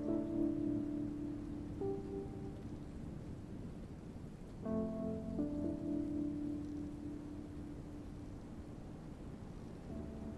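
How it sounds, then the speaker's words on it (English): A rainstorm in the video game Where the Heart Leads, with a steady wash of rain and a low rumble beneath sustained musical tones that shift partway through. "Bit of a storm."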